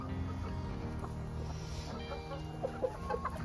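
Chickens cluck softly in a pen, a steady mix of low fowl chatter with a few sharper clucks near the end.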